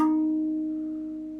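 A single note struck on a chambered steel tongue instrument, a handpan-type drum, rings out clearly with a bright onset and a smooth, sustained decay, alone and close.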